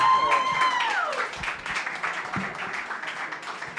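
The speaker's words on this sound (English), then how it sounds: "Let's give a final round of applause to the great filmmakers, great musicians." Audience applause at the close of a film festival Q&A for music videos: steady, dense clapping from a crowd, fairly close, with a brief tonal whoop or voice at the start and continuous hand claps throughout.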